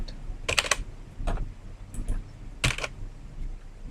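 Several quick, close clusters of keystrokes on a computer keyboard as a name is typed in, with short pauses between bursts and no talking.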